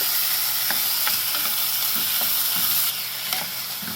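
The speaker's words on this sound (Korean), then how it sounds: "고기가 조금 익을 때까지 추가로 볶아줍니다" Meat stir-fries in a pan for curry, with a steady sizzling hiss and soft, spaced scrapes of a spatula tossing the pieces; the sizzle eases slightly near the end.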